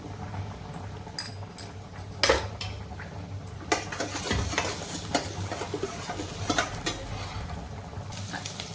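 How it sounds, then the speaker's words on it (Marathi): Onions with turmeric fry in a pan with a steady soft sizzle, broken by repeated scraping and clinking of a utensil stirring against the metal. "कांदा थोडा लाल झालेला आहे आता यामध्ये मी हळद टाकून घेते"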